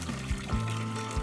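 Water pours and splashes into a bowl for washing mustard greens, a short continuous gurgling pour close up with no talk.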